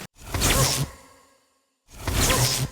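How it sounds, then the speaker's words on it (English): Two short airy whooshes of the League Warden hero's air attack in Clash of Clans, each a bright sweeping swish about a second long, separated by a brief silence. "The air attacking sound is very similar to the ground sound"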